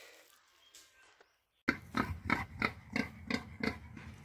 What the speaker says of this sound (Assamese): এয়া হৈছে গাহৰি, গাহৰি।